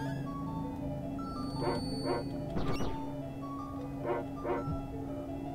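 A dog in the video game Secret of Evermore lets out several short, bright barks in two small clusters over a steady droning game soundtrack.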